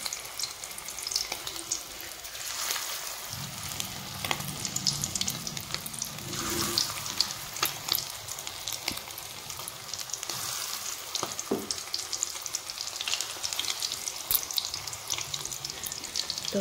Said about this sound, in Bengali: তেলটা গরম হয়ে গেছে। আর এখানে এইভাবে আমি বড়ার আকারে বানিয়ে নেব। ছোট ছোট করে বড়ার মতো আমি প্রথমে ভেজে নেব।